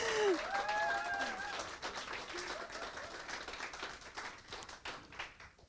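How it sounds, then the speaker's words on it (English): Audience applause for poets returning to the stage at a live mental-health event, a quiet, spread-out crowd clapping that slowly thins and fades, with a few voices and whoops early on. "give them another round of applause"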